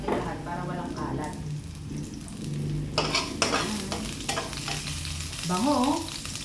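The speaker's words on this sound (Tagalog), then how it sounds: "Lagay na natin yung ating sibuyas." Onions and garlic sauté in a pan for adobo, a lively sizzle with scraping and stirring of a utensil against the pan, and a voice speaking briefly over the cooking.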